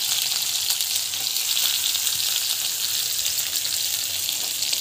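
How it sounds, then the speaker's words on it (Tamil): Onion and green chilli frying in oil in a home kitchen, a steady bright sizzle close by with no talk. "இது வந்து நல்லா ஃப்ரை ஆகிட்டுருக்கு."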